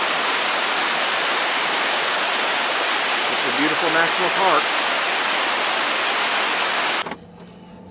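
The Little Pigeon River in Great Smoky Mountains National Park rushes in a loud, constant broadband roar, with someone briefly speaking over it before the sound abruptly cuts away near the end.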